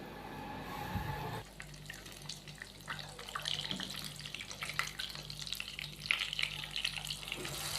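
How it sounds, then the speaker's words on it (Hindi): Hash browns frying in a pan of oil, a soft continuous hiss like running water that sets in after a brief muffled thump and holds steady and fairly quiet to the end, with no talking. "ये तकरीबन 2 से 3 मिनट के बाद एक साइड जो है इसकी फ्राई हो जाती है।"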